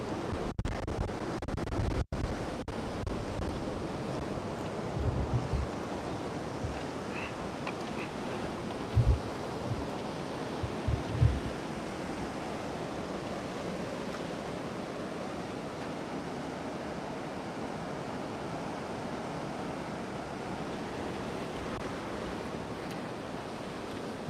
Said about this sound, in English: it's gonna get loud again. Look at these waves.